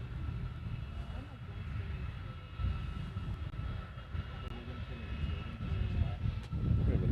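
A plane lands on runway 4 Right at Honolulu airport, a steady low jet rumble that swells toward the end, heard from a distance against background noise with no clear speech.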